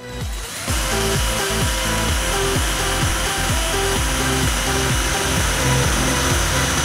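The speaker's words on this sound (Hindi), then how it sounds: "तो भाई, अब यहाँ पर मैं ड्रिल मशीन लेने वाला हूँ।" A power drill bores a hole into the top of an aluminium soda can for a homemade stove, a loud, steady whine with rhythmic grinding pulses that starts abruptly and runs without pause.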